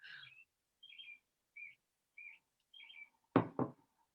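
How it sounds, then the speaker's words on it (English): Birds sing outside an open window, a string of short, high chirps repeating at a steady pace, faint and distant, followed by two sharp nearby knocks. "Who's got birds singing?"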